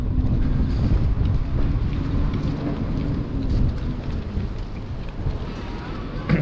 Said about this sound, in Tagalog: malapit sa dagat, mahangin ano?